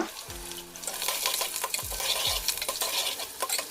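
Curry leaves, dried red chillies and asafoetida sizzle in hot oil for an Andhra masala brinjal dish, a steady close crackle broken by a few scraping stirs of a spoon in the pan.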